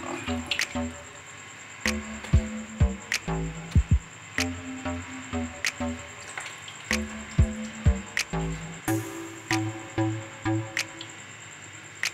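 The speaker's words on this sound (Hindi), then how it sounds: "इन्हें दबा के पानी निकालने के बाद हम बल्लों को दही के अंदर डाल देंगे।" Soaked, squeezed lentil bhallas dropped into yogurt for dahi bhalla, giving a run of soft wet squishes and drips, close and fairly quiet, with no talking.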